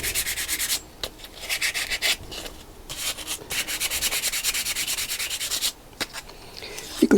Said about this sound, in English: You could give everything a good rub down.